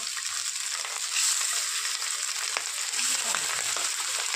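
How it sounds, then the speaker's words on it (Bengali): Fish fry in hot oil, sizzling and crackling continuously, with a few sharp pops and a brief scrape near the middle. "এবার মাছগুলো ভেজে নেব"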